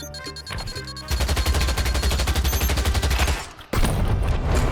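In Counter-Strike 2 played in VR, a gun fires a loud, rapid automatic burst of evenly spaced shots lasting a few seconds, preceded by some quieter clicks and followed after a brief gap by another loud burst.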